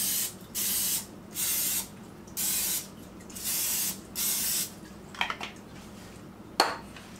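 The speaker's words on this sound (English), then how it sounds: "I'm going to spray my pan a little bit" Cooking spray hisses onto a metal muffin pan in six even bursts of about half a second, followed by a couple of light metallic clinks and taps as the pan is handled.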